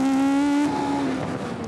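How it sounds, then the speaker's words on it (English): Ariel Atom 500 with a 3-litre V8 built from two motorbike engines, racing on the Top Gear track: a loud, close, high-pitched engine wail held steady, then dropping off into a rougher rasping note as it powers through a corner. "The Atom's 3-litre V8 is actually 2 motorbike engines stuck together."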